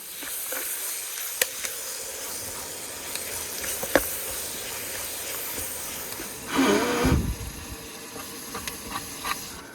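Food sizzling in a pan inside a truck cab during winter camping, a steady close hiss throughout with a louder burst of spitting and sizzle midway before settling back to a quieter crackle.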